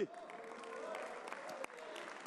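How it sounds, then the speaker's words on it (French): A crowd at a French public meeting on future transport projects applauds an official in a steady, moderate burst of clapping, with voices mixed in beneath it. "Vous pouvez l'applaudir."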